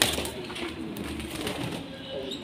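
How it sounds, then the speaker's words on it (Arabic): Pigeons coo softly at a pigeon-keeping loft, low murmuring calls blending with faint rustling background noise throughout. "اهو طبعا في حمام كمان هنا اهو"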